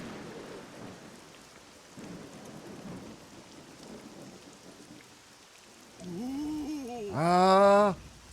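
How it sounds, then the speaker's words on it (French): Rain falling in the video game Dragon Quest VII Reimagined, a steady soft hiss through most of the stretch, joined near the end by louder bending, pitched game effects. "Oh, non! Il pleut! C'est glacial!"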